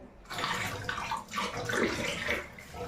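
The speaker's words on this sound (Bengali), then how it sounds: "মাছটা তো কালকে ধুয়ে নিয়েছিলাম আজকে একটু ভালো করে ধুয়ে নিই" Water runs steadily from a kitchen tap as fish is rinsed clean, a continuous close splashing wash with brief shifts in flow as the fish is turned under the stream.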